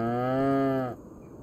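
An Angus cow in Farming Simulator 25 lets out a single close, drawn-out moo lasting about a second, then cuts off into near silence.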